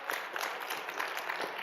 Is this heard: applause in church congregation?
yes